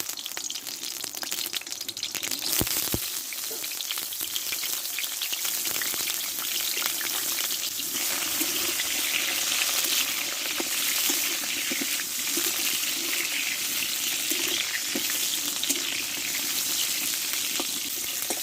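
Pointed gourd pieces fry in white oil for mutton-free doi potol, a loud, continuous close sizzle that stays even for the whole stretch, with a few scattered stirring clicks.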